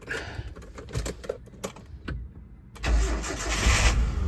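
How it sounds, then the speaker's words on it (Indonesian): A 2003 Nissan Terrano Spirit Sport II engine cranking with a rapid ticking starter, then catching and settling into a steady idle, close and moderately loud; no talking. "Ya coba dinyalain dulu mesinnya. Start up."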